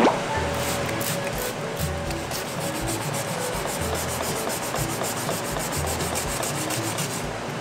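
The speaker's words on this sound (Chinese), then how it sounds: "先用这个最粗的砂纸。" Coarse sandpaper rubbed by hand over a fogged plastic instrument cover from a Yamaha BuBu 100 scooter, giving a steady gritty scraping with rhythmic back-and-forth strokes throughout, close and fairly loud with no speech.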